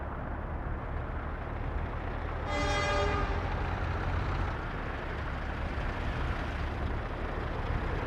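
Diesel locomotives rumble along the rails in the game Workers & Resources: Soviet Republic, a steady loud roar with a brief horn-like tonal blast partway through.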